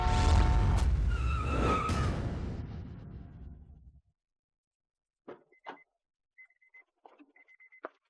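A car skids hard to a sudden stop, a loud close tire squeal and rumble that fades out over about four seconds, followed by silence and a few brief, faint scattered sounds.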